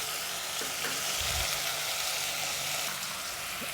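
Mutton bones with chopped onion and tomato fry in a pan for a soup, giving a steady, loud, close sizzle that runs without a break.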